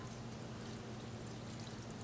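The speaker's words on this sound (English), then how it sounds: "And then I pour my broth over it" Broth pours steadily over a bowl of food, a continuous low, gushing stream with an even loudness throughout and no speech.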